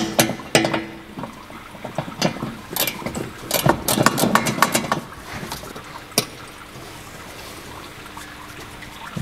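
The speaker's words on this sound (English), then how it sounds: "we'll get this heat shield off here at the back first to see what we're working with on the turbo" Sharp metallic clicks and taps of a wrench loosening the size 10 nuts on the rear turbo heat shield of a Mitsubishi L200, in irregular bursts that cluster mid-way and then thin out over a faint background hum.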